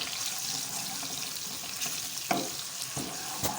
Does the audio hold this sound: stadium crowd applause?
no